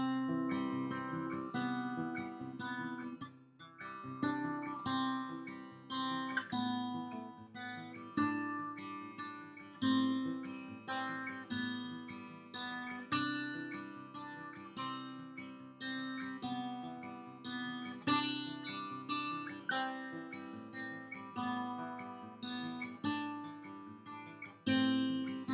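Acoustic guitar fingerpicks a song's pattern, a steady rolling arpeggio of plucked notes over shifting chords, close and clear with no talk.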